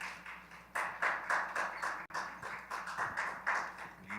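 Audience in a church-style forum hall clapping after a prayer, a steady run of overlapping handclaps with irregular swells, moderately loud and fairly close, a brief dropout midway, no voices over it.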